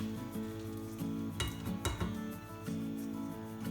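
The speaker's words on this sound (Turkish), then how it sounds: "Şu iyice yıkadığım pirinçlerimizi ilave ediyorum." Washed rice tipped into a pot of melted fat with chickpeas for a chicken pilaf, brief scraping and clinking of a utensil against the pot over a faint sizzle, close and quiet.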